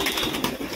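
A Madras breed pigeon held in a hand indoors gives a brief, soft cooing call, close by, with faint room noise and no talk.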